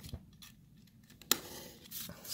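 Scissors cutting slowly through paper along straight lines for a fold-up shape project, soft close snips and rustles with one sharper click, quiet and without talk.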